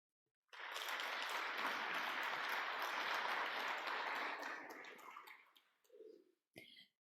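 Audience applause at an agriculture and food forum starts abruptly and holds steady for a few seconds before fading out, followed by a short low murmur and a brief clatter.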